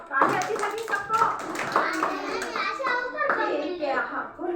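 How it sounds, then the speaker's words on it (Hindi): Children clapping in a classroom activity, a burst of applause mixed with kids' voices chattering over it, close and lively. "सबका ताली बजाओ।"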